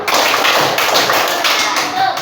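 Elementary school children perform the tepuk semangat rhythmic clapping chant in a classroom, loud, close bursts of claps and taps struck together in a quick patterned beat.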